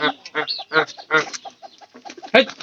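A chicken clucks close by in a quick run of short, choppy calls, some louder than others, with a sharper squawk near the end.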